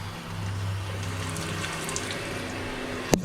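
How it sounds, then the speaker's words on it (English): A toilet tank refills with water through a newly replaced fill valve, giving a steady, close rushing hiss of flowing water, with a small clunk right at the end. "So, seems to be filling."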